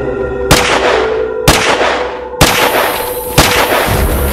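Four sharp gunshots ring out in a short film, spaced roughly a second apart, each a loud crack followed by a brief decaying echo.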